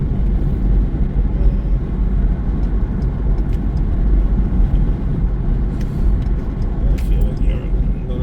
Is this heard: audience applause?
no